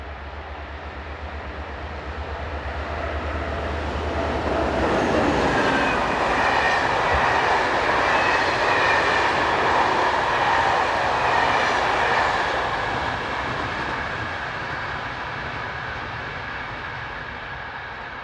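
A French passenger train, a Z11500 electric unit on a regional Strasbourg to Nancy service, approaches and passes close by, its roar and rolling wheel noise swelling to a broad loud peak around the middle before easing away.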